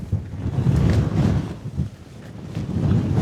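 Storm Amy gusts buffet a Nordisk Svalbard 1 SI tent, a dense rumbling wind roar that surges and eases in uneven waves, loud and close with heavy low buffeting against the fabric.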